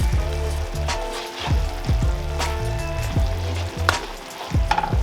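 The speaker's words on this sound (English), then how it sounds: "we're gonna let this simmer till it gets very, very thick" Sauce with Dijon mustard simmering in a pan, a steady close sizzle and bubbling with a few clinks and stirring knocks, alone without talk.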